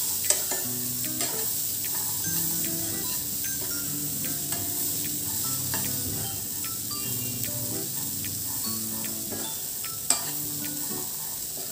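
Chickpeas and ground spices crackle and fry in a pan while a spoon stirs and scrapes repeatedly; the sizzle is continuous and moderately quiet, with one sharper clank near the end.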